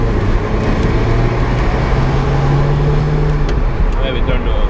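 Continuous engine and road rumble from a Lotus Elise SC sports car on the move, with a rising engine tone and some muffled voices.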